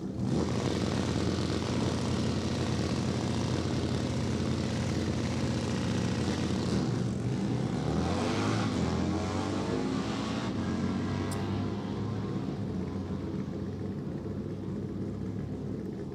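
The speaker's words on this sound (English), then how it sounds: "Robert Mallory riding that bike to a 1067 at 123 miles an hour on his Sportster" A Harley-Davidson V-Twin Sportster at an NHRA drag strip makes a loud, sustained engine roar through the whole run, with the pitch sweeping as it passes and then fading into the distance.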